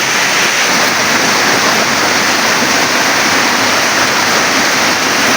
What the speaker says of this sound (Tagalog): Maulan na panahon. Maulan na umaga pala. baha kasama result dito.